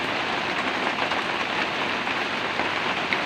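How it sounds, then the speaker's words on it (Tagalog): Heavy rain pours down steadily, a dense, even hiss of drops on surfaces, close and continuous with no voices. "Ang lakas ng ulan kagabi pa."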